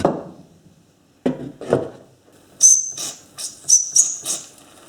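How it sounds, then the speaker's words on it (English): A small Mamod toy steam wagon builds steam pressure: a few soft knocks and clicks, then a series of sharp, close hissing bursts in quick irregular pulses. "Starting to get somewhere with the steam pressure."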